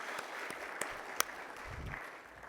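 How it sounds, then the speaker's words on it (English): An audience at an annual general meeting gives a short round of applause for those just thanked: steady, even clapping throughout, fairly faint and with a few sharper individual claps standing out, with no talking over it. "if we give a quick round of applause for everybody there I just mentioned"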